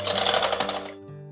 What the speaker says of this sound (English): Taking my handheld mixer again, I'm just going to be combining all of this.